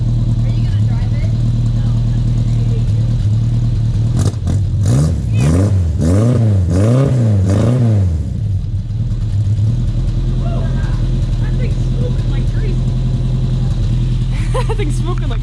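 Opel car engine idling with a deep throb through headers and a glasspack exhaust, then revved up and down several times in a rhythmic series before settling back to idle, loud and close.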